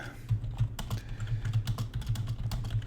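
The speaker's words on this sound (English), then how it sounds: "I have a very mechanical keyboard, guys." Steady, rapid typing on a mechanical computer keyboard, close up, with dense overlapping clacks and no talking.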